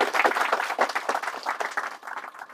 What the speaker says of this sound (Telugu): ఆయనకి మనం గట్టిగా చప్పట్లతో అభినందనలు తెలియజేయాలి